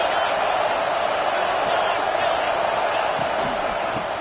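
Stadium crowd at a college football game against UCLA roaring steadily behind the defense on a big third down, a loud continuous broadband wash of cheering and noise with commentary talking over it.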